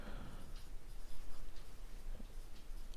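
A marker scratching on a board during a physics class on dimensions, a quiet rubbing and squeaking stroke sequence with a few short strokes, faint and close.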